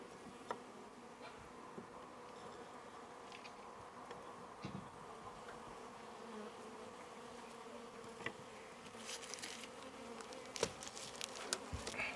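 Honeybees drone steadily around a homestead hive during an autumn inspection, a soft continuous buzz with occasional louder passes of individual bees close by and faint clicks near the end.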